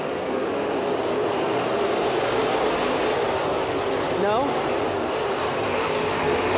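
Race cars lap Eagle Raceway at a season opener, a steady broad engine roar filling the track with one rising pass, while a commentator talks over it.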